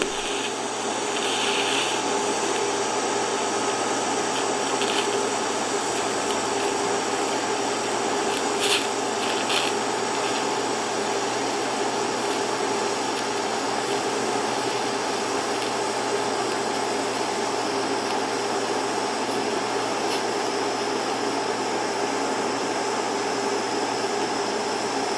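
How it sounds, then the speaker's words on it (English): A TIG welder is running a fillet joint with a continuous, even hiss and buzz that stays at the same level for the whole stretch, with no talking. "So I'm going to go back and finish this weld out normal."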